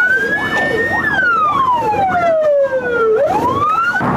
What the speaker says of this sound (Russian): И снова скорая, и снова экстренный вызов.